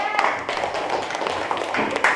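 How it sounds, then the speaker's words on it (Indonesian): Classroom applause for a student group presenting a triangle geometry lesson: dense, steady clapping from many hands filling the room for a couple of seconds, with no talk over it. "tepuk tangan untuk kelompok 3"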